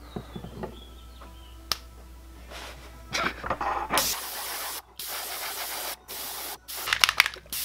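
An airbrush sprays gold paint onto a handmade wooden chatterbait lure in short hissing bursts separated by brief gaps, close and moderately loud after some quiet handling taps at the start.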